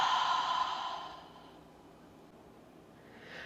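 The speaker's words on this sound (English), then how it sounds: "Open the mouth, exhale." A deep exhale through an open mouth during yoga breathing, one long audible breath that starts strong and fades out over a couple of seconds, close and alone, with a hint of the next breath at the end.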